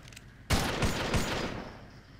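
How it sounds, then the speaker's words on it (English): Pistol gunfire in the video game Red Faction 2: a sudden burst of several close, sharp shots in quick succession, followed by a fading echoing tail, with no talking. "Hold still, I'm trying to pistol shoot you."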